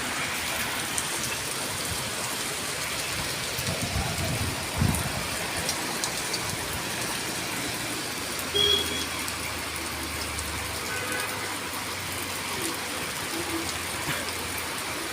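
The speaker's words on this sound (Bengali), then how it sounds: "প্রায় এক ঘন্টা হয়ে গেল বৃষ্টিটা হচ্ছে।" Heavy rain pours down over Dhaka in a continuous, dense hiss of drops on hard surfaces, with a low rumble around four to five seconds and a faint distant sound later. No voices are heard.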